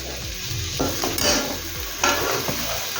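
Chopped capsicum and finely cut beans sizzle in a hot pan with onions, while a spatula scrapes and stirs in repeated close strokes throughout.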